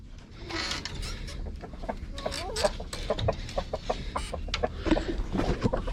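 A rooster and a flock of chickens cluck steadily and close by in a backyard pen, with short calls overlapping throughout and a voice faintly present underneath.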